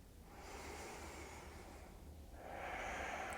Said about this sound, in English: Take another full breath.